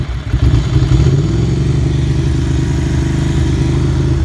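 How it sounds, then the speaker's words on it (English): A Ducati Monster motorcycle idles with the choke on, a loud, steady, close-up mid-range engine rumble with a slight surge at the start, with no talk. "If I put the choke on,"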